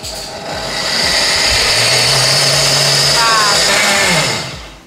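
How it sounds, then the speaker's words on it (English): A dry blender grinds rolled oats into gluten-free oat flour with a loud, steady motor whir that ramps up and holds for several seconds, close by in a home kitchen. "put them in preferably a dry blender"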